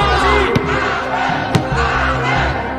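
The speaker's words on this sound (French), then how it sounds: "on peut dire que la foule est en délire" Loud crowd at a basketball game shouting and roaring steadily throughout, with a couple of sharp slams or claps cutting through the din.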